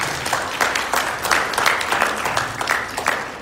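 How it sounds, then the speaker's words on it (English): An audience applauds at a company fitness-program event, a steady wash of many hands clapping with a few sharper individual claps rising through it, moderately loud and sustained throughout with no talk over it. "Give them a round of applause, seriously."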